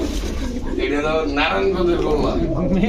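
Gola breed pigeons cooing close by, throaty rolling coos repeating over a steady background, with people talking during the sound.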